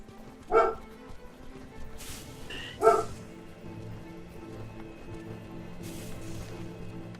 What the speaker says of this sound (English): Oh, Marley, you're such a dog.